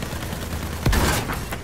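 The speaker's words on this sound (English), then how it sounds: "Oh, I didn't know you could fire more than once." A single loud burst of gunfire in the Battlefield 1 video game, a sharp close crack with a short rumbling decay over steady battlefield background noise.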